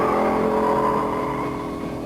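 A Dodge Challenger R/T with a 340 V8 accelerating hard off the line, a loud, steady engine roar with a rising tone that eases slightly toward the end, heard close with no voices.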